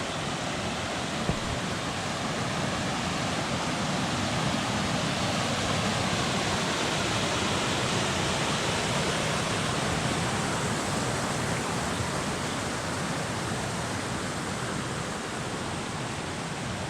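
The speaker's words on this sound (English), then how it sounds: "this is what feeds into the main part of the waterfall just over here" A waterfall in Morocco roars as a constant, loud, broadband rush of falling water, steady and unbroken throughout with no voices.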